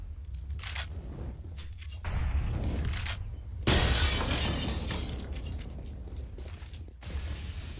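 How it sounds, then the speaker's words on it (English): Glass shatters repeatedly in the video game Counter-Strike during a tournament match, crashing and tinkling bursts in several loud waves, some sharp and some lingering. "I love the sound of that breaking glass"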